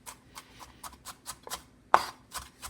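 A knife slicing an onion thinly on a cutting board, a quick, even series of soft, crisp cuts at close range with one louder knock partway through, fairly quiet and with no talking.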